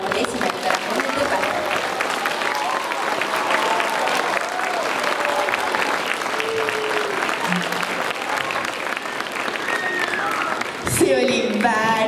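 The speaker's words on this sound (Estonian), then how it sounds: "teeme ühe suure aplausi meie vägevatele esimestele." A big crowd at a playback show claps loudly and continuously for the first performers, a thick sustained roar of hands with a few cheering voices rising through it before a voice cuts in near the end.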